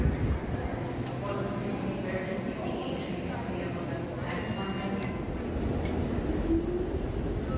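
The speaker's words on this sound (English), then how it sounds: "So let's hop on the subway again and start heading downtown." A New York City subway train heading downtown produces a steady, close rumble and rattle of wheels on track, with a continuous roar filling the car for several seconds.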